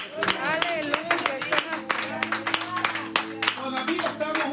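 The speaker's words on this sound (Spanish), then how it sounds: "yo creo que eso merece un aplauso al Rey de Reyes y al Señor" Clapping from a church congregation in a temple during a worship service, mixed with voices calling out over the hands, continuous and fairly close throughout.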